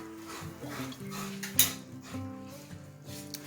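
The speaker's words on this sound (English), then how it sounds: "I'm going to add my squash, and I'm going to add it with the liquid in here as well as the squash itself" Canned butternut squash and its liquid go into a pot, with clinking of a can and spoon against metal, scraping and stirring, and one sharp clank near the middle, all up close.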